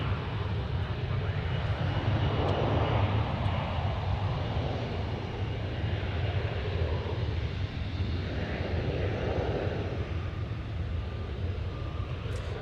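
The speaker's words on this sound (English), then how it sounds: "So the one taking off from DFW is going to Haneda" An airplane departing DFW airport for Haneda produces a continuous loud, rumbling roar that stays even and unbroken from start to finish, with no voices over it.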